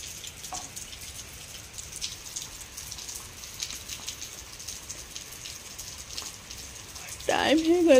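Steady rainfall hisses evenly throughout, with scattered drops tapping on a surface and a louder burst of noise near the end.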